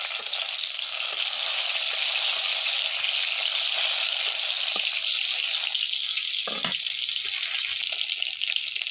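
Dried red chillies and four green chillies fry lightly in a pan for a teasel gourd mash, with a dense, loud, continuous sizzle and a brief stir partway through.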